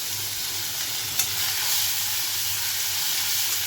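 Onion and chili frying in a pan, a steady broadband sizzle with a constant hiss throughout and one brief clink near the start, no voices.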